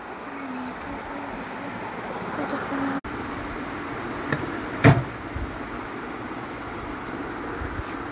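Inside a moving air-conditioned passenger train carriage: a steady, broad rumble fills the space, broken by a sharp knock or clunk partway through and a few faint rattles.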